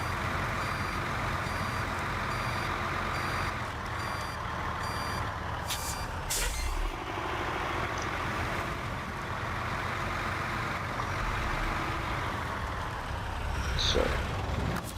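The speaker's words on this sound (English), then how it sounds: "This really is a heavy truck, really bold" A heavy truck in the Snowrunner video game idles with a steady engine rumble while reversing beeps repeat throughout, with a brief air-brake hiss partway through and another near the end.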